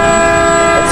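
A Tullahoma Fire Department 2014 KME pumper truck blasts its horn at a Christmas parade, a loud, steady, chord-like air horn resembling a train horn, sustained without a break.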